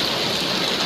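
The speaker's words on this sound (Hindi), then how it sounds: "देखिए पानी गिर रहा है नीचे, ये पूरा नीचे पानी गिरा है, यहाँ से टपक रहा है पानी" Rainwater leaking through a house roof and falling indoors during heavy rain, heard as a steady, close, hissing splash of running and dripping water that continues without a break.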